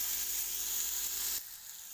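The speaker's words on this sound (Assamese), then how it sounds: "অলপ দেৰি ইয়াক মই অলপ নিমখ দিম, দি অলপ ভাজি ল'ম।" Steady high-pitched sizzling of onions frying in a pan with a little salt, close and continuous, dropping to a quieter sizzle near the end.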